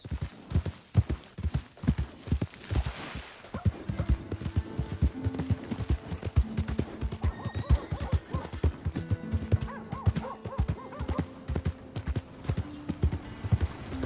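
Horse galloping in the Red Dead Redemption 2 video game, a rapid, close run of hoofbeats with rhythmic thuds and jingling tack, joined partway by whinnying and other tonal game sounds.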